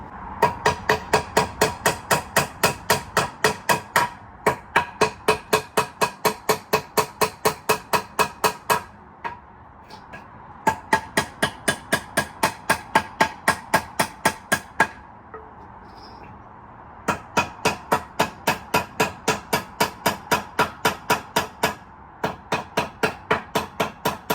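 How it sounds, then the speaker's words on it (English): Nails being hammered into wooden pallets for a garden rebuild: rapid, evenly spaced hammer blows in long runs, broken by short pauses, each strike sharp and close. "anything that still has nails, I just hammer them in"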